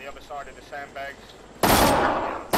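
Loud burst of video game gunfire erupts suddenly after radio-style voice chatter, a dense sustained volley lasting about a second before cutting off.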